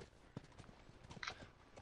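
Horse hooves clip-clop as Ellie rides in The Last of Us, a few quick uneven thuds close by over faint game ambience.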